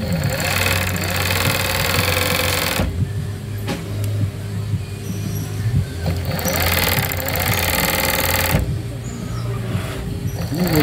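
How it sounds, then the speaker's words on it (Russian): A fur sewing machine stitches a mink fur coat, its motor whirring and buzzing steadily in long bursts with short pauses, and a person talks over it. "Помощник с другой стороны, слышите, машинка работает."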